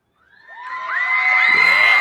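A crowd cheering sound effect swells up from silence into loud, high-pitched whoops and shouting voices, building steadily over about two seconds with no talk over it.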